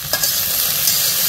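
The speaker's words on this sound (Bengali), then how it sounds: "এই যে ঢেঁড়স ভাজি হয়ে গেছে" Okra (bhindi) frying in oil in a pan, a loud, close, steady sizzle with a brief stir at the start.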